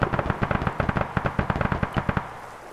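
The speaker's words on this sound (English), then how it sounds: "Got some rear shooting going on back there." Gunfire in a video game, a rapid run of sharp shots in an irregular rhythm, fairly close and loud, thinning out toward the end.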